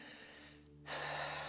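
After a brief pause, a person takes one deep, drawn-out breath that is loud, airy and close, over a faint steady hum.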